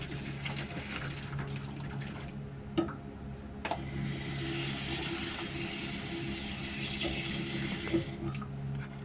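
Cold water runs steadily from a kitchen tap over blanched vegetables in a sink, a continuous splashing rush that swells louder midway, with a few faint clicks and knocks around it.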